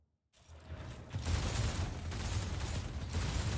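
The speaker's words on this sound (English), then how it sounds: "The Vox transmits the sounds of gunfire and death screams." Gunfire in a video game, a dense, continuous rattle of shots and mechanical noise that starts abruptly after a short silence and stays loud throughout.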